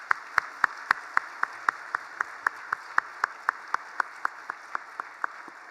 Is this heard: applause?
yes